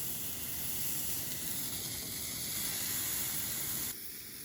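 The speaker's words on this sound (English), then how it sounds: "All right, so I'm cooking this steak." A steak sizzles on a small camp stove at a campsite, a steady hissing spatter held close and even, dropping off slightly near the end.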